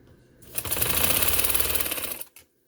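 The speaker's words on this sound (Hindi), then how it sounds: "और यहाँ मैं सिलाई लगाती हूँ, पक्का कर लेंगे थोड़ा सा" A sewing machine stitches lace onto a garment neckline in one close, loud burst of about two seconds, a rapid, even mechanical whir that starts and stops abruptly, with no talking.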